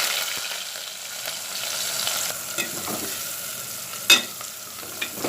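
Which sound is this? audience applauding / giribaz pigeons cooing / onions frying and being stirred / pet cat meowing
onions frying and being stirred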